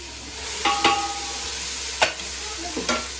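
Spices tempering for an onion-tomato gravy with ginger and chilli sizzle softly in oil in a steady hiss, while a few sharp clinks of a spoon against the pan punctuate it. No talking.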